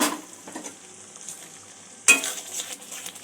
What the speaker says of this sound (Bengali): আরও একবার নাড়াচাড়া করে নেব। মশলাটা আরেকটু কষা হবে।